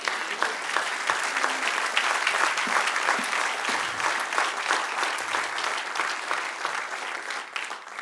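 A church congregation claps steadily and fairly loudly, a continuous wash of many hands with no voices standing out, fading slightly toward the end.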